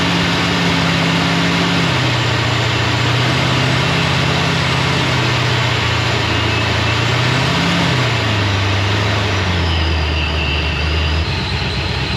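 A Procharged Pontiac GTO engine idles loudly and steadily after its winter layup, a deep constant rumble with a slowly wavering low tone that dips and settles, close by and uninterrupted.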